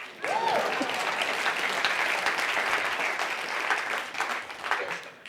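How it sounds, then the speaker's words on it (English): Book-reading audience applauding in a hall, a sustained wash of many hands clapping that holds steady for several seconds and then tapers off, with a brief voice near the start. "You can clap."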